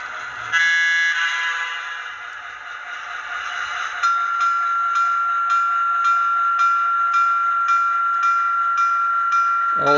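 A model train's sound decoder sounds its electronic horn and bell effects: a loud, sustained, steady horn tone with a repeating rhythmic ring beneath it, close and clear.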